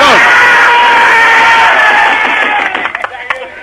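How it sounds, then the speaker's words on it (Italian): A studio audience at a Neapolitan television variety show cheers and whoops loudly, the noise swelling and then breaking into scattered claps and shouts as it fades. "Allora facciamoci un applauso reale a tutti i carcerati di Poggio Reale."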